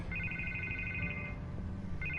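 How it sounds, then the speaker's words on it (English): A telephone rings in the Batman Telltale Series video game, two bursts of trilling electronic ringing separated by a pause, clear over a low rumbling background. "I can't get the phone to stop ringing."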